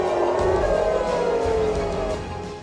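A loud, sustained missile-attack air raid siren in central Israel wails steadily, its pitch sliding slowly downward before fading slightly at the end.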